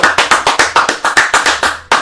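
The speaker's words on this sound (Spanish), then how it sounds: "Pues un aplauso para Olga que apareció" Loud, close hand clapping in an even, brisk rhythm, about a dozen sharp claps with a short pause before the final one, heard alone without voices.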